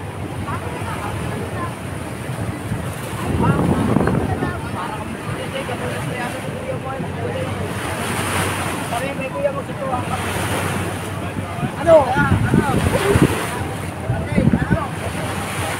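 Steady wash of waves and wind around a moving boat at sea during a San Pedro fiesta, with engine rumble underneath and occasional voices rising over the noise.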